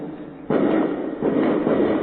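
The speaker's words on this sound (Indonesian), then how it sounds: "Kembang api." Fireworks going off outside, heard from indoors as two muffled, deep booms, each swelling into a dull rumble that lingers.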